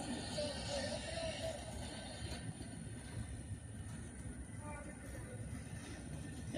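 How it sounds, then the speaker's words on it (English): A freight train led by three locomotives rolls past at a distance, a faint steady rumble of wheels on rails with light metallic squeals, and a voice speaking briefly over it. "This one had 3 engines on the front of it."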